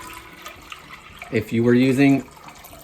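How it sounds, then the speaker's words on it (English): Water poured from a container into a soup pot for asparagus soup, a short splashing gush with a rising gurgle, close by, following a stretch of talk. "I've got 5 cups of water. And so I'm gonna add that to the pot."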